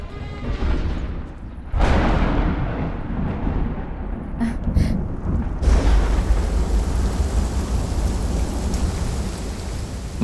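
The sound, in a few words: rain falling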